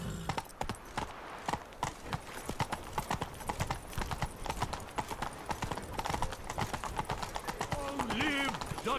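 Roach, a horse in The Witcher 3: Blood and Wine, clip-clops along with a quick, steady hoof rhythm, followed by a brief whinny near the end.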